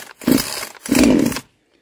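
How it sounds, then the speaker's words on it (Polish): Two sharp pull-starter yanks on a Demon CS-2500 petrol chainsaw, each a brief raspy engine cough close by, with a short gap between them and silence after. "Wyciągamy ssanie i piła powinna po kilku pociągnięciach startera uruchomić."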